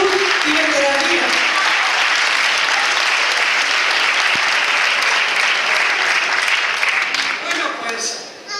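An audience applauds after a song at a live performance, dense continuous clapping that stays strong throughout and thins out at the very end.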